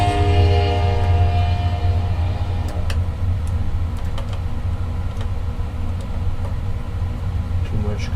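A train rumbles past close by with a sustained low roar and a horn tone at the start, steady throughout, with faint speech under it.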